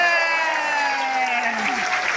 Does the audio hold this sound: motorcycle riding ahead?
no